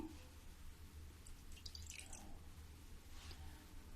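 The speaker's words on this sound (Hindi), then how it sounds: "अब इसमें मैं 2 चम्मच पानी डालती हूँ।" Water splashes and drips into jaggery syrup in a pan while making rewdi, a close, light trickle over a steady low hum, with no talking.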